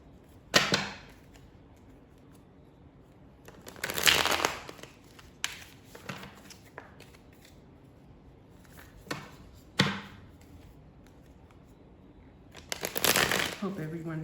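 Angel cards being shuffled, with several short riffling bursts and taps spread unevenly through quiet stretches, fairly close to the listener.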